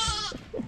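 Goats bleat on a mountain road near Manali in India, giving a couple of short, close, nasal calls in quick succession with no talking.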